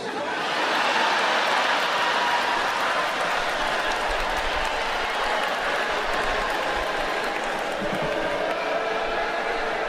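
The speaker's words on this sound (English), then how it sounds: "Why y'all booing?" A comedy club audience boos together, a dense, steady wash of crowd noise that stays loud and continuous throughout.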